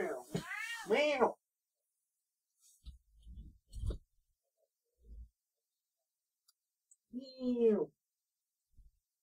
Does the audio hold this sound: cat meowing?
yes